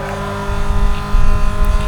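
Lamborghini Gallardo engine in the racing game Need for Speed: Most Wanted, a loud continuous roar building and revving over a short stretch, heard alone.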